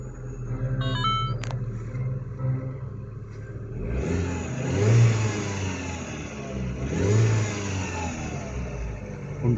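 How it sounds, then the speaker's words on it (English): A yellow Mini Cooper S with about 103,000 miles, a new timing chain and clutch, starts up and idles, then its engine is revved twice in strong swelling bursts before settling back to a steady idle. "Start it up, show you the most important part, the engine."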